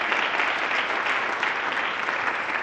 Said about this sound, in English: I think that one does deserve a round of applause.